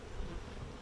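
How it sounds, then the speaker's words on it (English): Brief, dense hum of many honey bees swarming around the front of a hive, a close, continuous buzzing drone with no talk. "Look how many bees we've kept from getting to the hive here"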